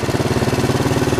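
A motorcycle engine with cleaned carburettors whose revs hang, thrumming in a fast even pulsing rhythm at a steady loud idle, close to the microphone with no talk.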